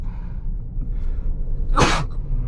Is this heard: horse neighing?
no